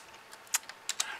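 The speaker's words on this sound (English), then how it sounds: "You got to use the right keyboard." Several separate keystrokes on a computer keyboard, close and crisp, with irregular spacing over a quiet background and no speech.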